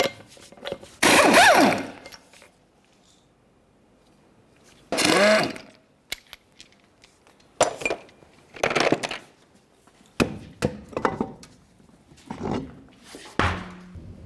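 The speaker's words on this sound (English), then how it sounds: "remove all 6 of your 21mm lug nuts and then the wheel" Six 21mm lug nuts being taken off the rear wheel of a 2004-2015 Nissan Titan with a power tool, heard as several separate whirring, rattling bursts with quiet gaps between them.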